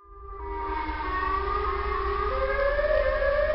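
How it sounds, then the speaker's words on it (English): A Siren Head siren in a horror video game wails alone, rising from a quick fade-in into a loud, sustained, slowly climbing multi-tone howl with a low rumbling underlayer. "did you just hear the Siren Head noise again?"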